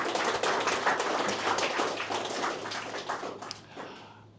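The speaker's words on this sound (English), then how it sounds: "So applause to them." Audience at a DevOps and AI tech meetup in Latvia applauding, a fairly faint, steady wash of many hands clapping that tapers off toward the end.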